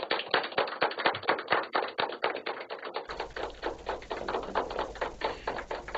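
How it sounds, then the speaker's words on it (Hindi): Students at a virtual conference give a standing ovation to a folk singer, a dense, steady patter of loud hand claps that continues without a break. "हम सब लोग पहले खड़े उठेंगे और डंगवाल जी के सम्मान में एक ताली हम बजाएंगे।"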